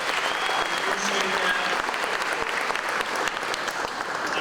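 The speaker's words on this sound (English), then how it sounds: "How about a round of applause for our cooks and our servers here tonight?" Banquet audience applauding the cooks and servers at a farm-city dinner, a steady, dense wash of clapping from a large room that continues throughout without letting up.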